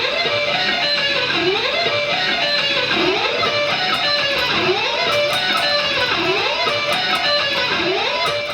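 A looped guitar lick from a solo repeats its fast descending-and-rising phrase in even cycles, loud and continuous with no talking.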